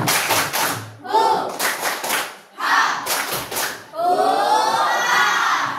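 A standing school class performs the tepuk semangat spirit clap, bursts of rhythmic group clapping and chanted shouts in several short rounds, loud and close, with a teacher's voice between them.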